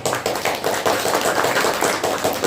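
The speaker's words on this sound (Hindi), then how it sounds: "उनके लिए जोरदार ताली बजाइए।" A church congregation claps loudly and steadily to welcome newcomers, a dense continuous patter of many hands close by, with no talk over it.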